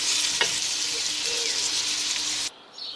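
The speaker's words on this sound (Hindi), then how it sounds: "प्याज को हम तलेंगे कि ये गोल्डन ब्राउन हो जाए" Onions fry in hot oil in a home kitchen for a Pakistani okra dish, a steady close sizzle that holds throughout and drops away abruptly near the end.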